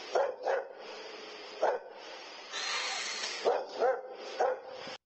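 A dog barks in several sharp bursts, twice near the start, once mid-clip and three more toward the end, with a steadier hissing noise in between, all fairly loud and close in a home camera recording.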